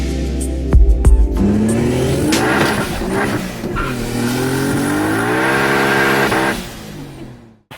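A 1993 Mazda RX-7 FD rotary engine revs up loudly and close, climbing and holding high pitch with a rising, wavering whine before easing off, with no talking.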